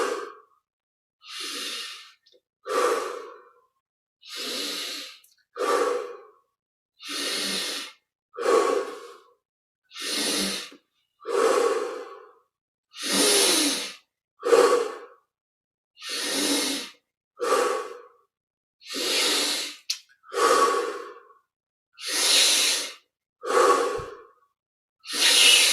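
Slow, deep breaths during a meditation exercise, each long inhale and exhale separated by silence in an even, repeating rhythm, close and clear with no other sound.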